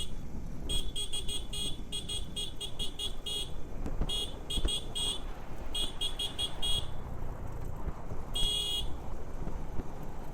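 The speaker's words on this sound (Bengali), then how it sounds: "আমরা হর্ন দিয়ে মিউজিক বাজাইতেছি।" A car horn on a road trip through Bangladesh honks in rhythmic patterned bursts to play a tune. Short beeps come in quick groups over a steady engine and road rumble inside the vehicle.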